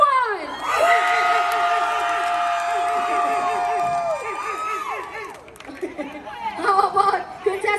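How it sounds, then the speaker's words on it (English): A cruise-ship crowd cheers and shouts for a contestant at a deck party, a loud lively burst of voices and whoops with a chanting, sing-song voice over the top. "Only you clap one time and you can shout only one time."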